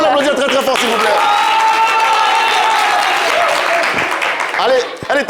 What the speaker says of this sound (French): On va l'applaudir très très fort, s'il vous plaît